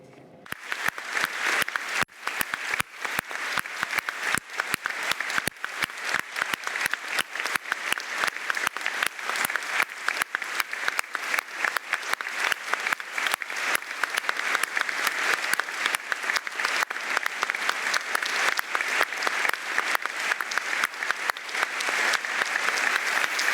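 An audience gives sustained, loud applause after a speech. After a brief quieter start it swells into dense, steady clapping from many hands and keeps going without letting up.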